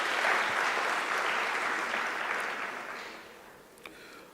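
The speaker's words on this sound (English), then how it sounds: "Can you guys give yourselves a round of applause?" A crowd at a student entrepreneurship event applauds in a dense burst that gradually fades away toward the end, moderately distant.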